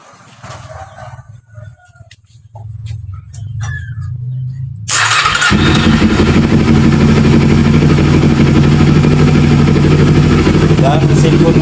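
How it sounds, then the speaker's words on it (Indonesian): A carbureted Kawasaki Ninja 250, serviced for misfiring and overheating, cranks over quietly, then fires up around the midpoint into a loud, steady idle close by. A rooster crows faintly and a voice speaks during the cranking. "Dan mesin pun menyala,"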